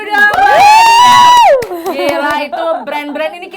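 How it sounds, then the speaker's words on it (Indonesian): A studio audience at a talk show lets out a loud, drawn-out whoop and then breaks into scattered cheering and shouts with a few claps. The burst is short and close. "itu jadi tepuk tangan dulu dong"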